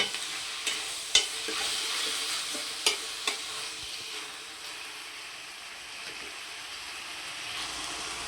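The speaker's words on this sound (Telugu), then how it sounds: "చిక్కుడుకాయ ముక్కలన్నీ వేసుకుందాము. ఇది బాగా నూనెలో మగ్గనిద్దాము." Broad bean pieces fry in oil for a tomato curry, a soft continuous sizzle broken by a few sharp clinks of a spoon stirring the pan, close and fairly quiet throughout.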